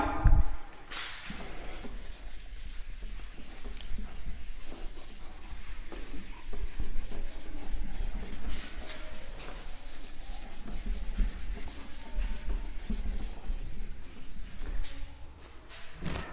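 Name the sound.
rubbing out writing on a board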